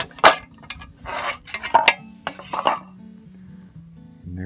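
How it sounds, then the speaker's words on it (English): Cast aluminum pieces clatter out of a flipped-over muffin tray at a campfire, a quick run of close metallic knocks and clinks in several bursts, then settling into quiet. "I can grab the tray and just flip it over and they should fall out"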